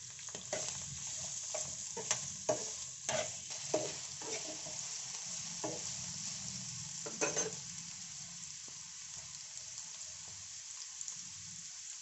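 Green guava pieces frying in a pan, a quiet steady sizzle punctuated by a series of sharp clacks and scrapes as they are stirred, with no voices.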